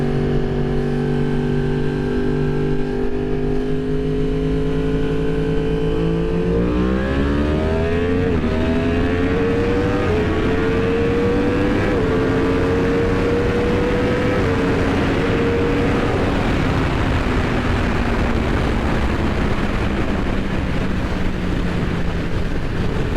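A stock-geared Yamaha R1S motorcycle pulls hard and climbs through the revs in quick gear shifts, each shift dropping the engine pitch before it rises again, with loud wind rush building steadily over the whole run.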